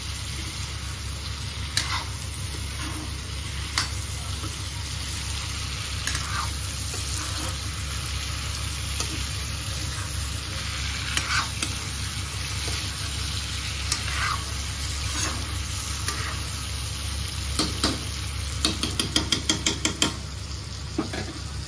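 Shredded cabbage bhaji stir-fried in a pan gives a soft, steady sizzle with occasional clinks of a utensil against metal, growing busier toward the end, with no talk.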